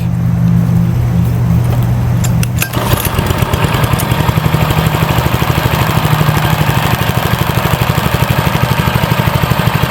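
A Cub Cadet ST 100 riding mower engine cranks briefly, then fires and runs at a governed-down speed with a rapid, even chugging beat, loud and close.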